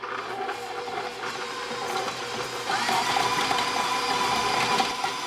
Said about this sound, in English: And the mixer is a little bit loud.